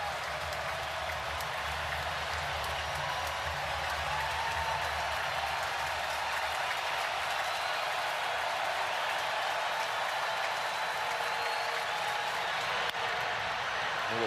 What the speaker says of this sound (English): This crowd getting revved up.